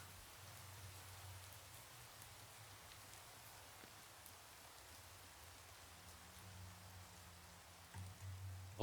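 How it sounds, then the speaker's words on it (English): Soft, steady rainfall with a diffuse patter, fairly faint and constant, ending with a slightly louder knock. "Yes, it is raining."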